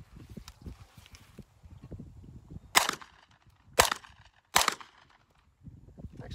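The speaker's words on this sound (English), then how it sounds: "this is a quick test fire video of an Uzi that we got in" A refinished Norinco Uzi 9mm fires three loud, sharp shots about a second apart, amid quieter handling and rustling noise outdoors.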